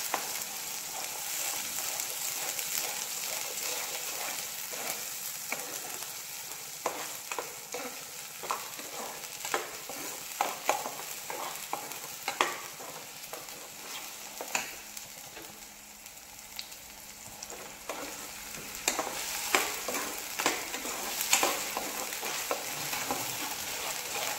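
Mutton trotter curry is stirred and mixed in a pot over the heat, with continuous frying sizzle and repeated scraping and clattering strokes of the spoon running throughout.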